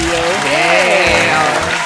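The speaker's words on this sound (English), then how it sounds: "Quick round of applause." Brief burst of studio applause during a radio podcast, steady clapping under overlapping voices for about two seconds.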